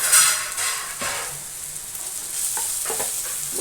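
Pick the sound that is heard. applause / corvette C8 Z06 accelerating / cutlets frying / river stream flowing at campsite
cutlets frying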